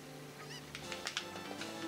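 A chicken clucks in The Legend of Zelda: Ocarina of Time for the N64, a few short squawking calls over soft game background music, no voices.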